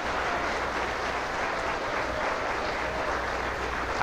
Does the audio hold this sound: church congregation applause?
yes